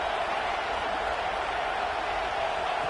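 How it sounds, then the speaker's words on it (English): A football stadium crowd roars steadily during a playoff game, its broad, dense noise unbroken from start to finish and fairly loud. "here comes the noise. This crowd is trying to inspire this defense to make a big red zone stop"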